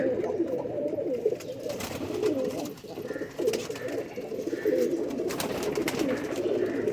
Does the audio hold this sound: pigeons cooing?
yes